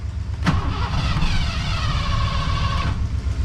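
A Camaro race car engine cranks over on the starter with a low, fast, even churning that holds steady for a few seconds, loud and close, without catching or talk.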